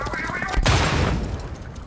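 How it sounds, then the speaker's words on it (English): An explosion in the VR video game Moss, a sudden loud boom that bursts in and then rumbles and decays over about a second. "And avoid an explosion."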